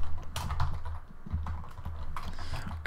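Rapid keystrokes on a computer keyboard as Ruby code is typed, a steady run of close, clicky taps in uneven bursts with brief pauses, no voices over it.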